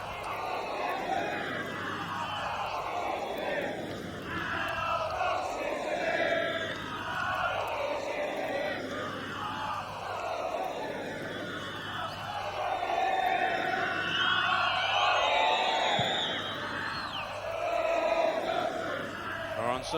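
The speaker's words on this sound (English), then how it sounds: "the crowd certainly appreciate everything that Craig Johnston attempts" A football stadium crowd at a Liverpool FC versus Dinamo București match gives a broad, swelling roar and cheers, heard under the commentary.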